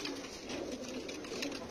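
Red pigeons, a hen and a male, offered for sale in Sadr City give soft continuous cooing close by, a low murmuring flutter over constant background hiss.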